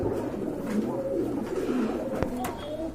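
A pair of White Beauty Homer pigeons and others coo in a market pen, layered throaty calls running throughout, fairly near, with brief clicks and knocks but no talk.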